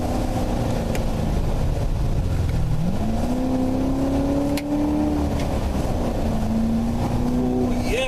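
A 2015 Chevrolet Corvette engine drones steadily while driving, its pitch rising and holding as the car accelerates, with road and wind noise underneath and no talk.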